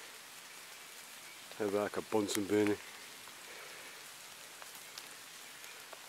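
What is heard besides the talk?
heavy rain falling outdoors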